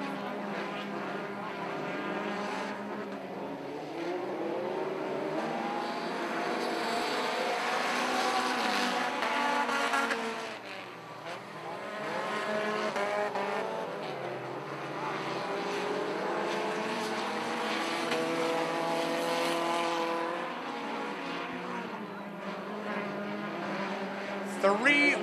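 Pro 4 race cars roar around an asphalt oval in a close pack, a dense continuous engine drone with shifting pitch as the field passes, loud and steady throughout with a brief dip midway.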